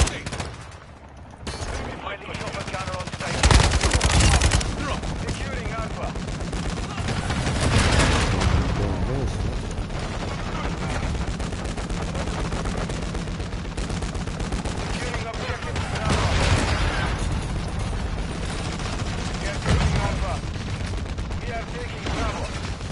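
Video game gunfire, dense rapid bursts of automatic shots that keep going loud and close, with a heavier blast early on, under a player's talk.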